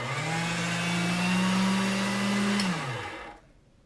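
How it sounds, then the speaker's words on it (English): A motorized machine presses a thin sheet of polymer clay to texture it, giving a close, steady electric whir with a low hum that holds, then winds down and stops. "I'm going to run it in my machine, and you'll see it gets a nice texture."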